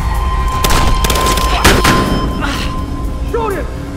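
Gunfire in the video game Battlefield Hardline, loud bursts and booms stacked close together over the first two seconds, then fading into a rumbling tail with a brief tonal sweep near the end.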